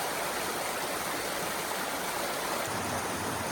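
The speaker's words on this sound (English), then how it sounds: "this creek just kind of flows through here in an interesting way" A creek running through a North Cascades forest garden area beside a boardwalk, giving a continuous, even rushing and gurgling wash, close and fairly loud, with no voices.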